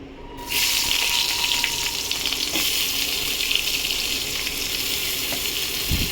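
Onions dropped into hot oil in a kadai over a gas flame, a loud steady sizzle that bursts in suddenly and crackles on without pause.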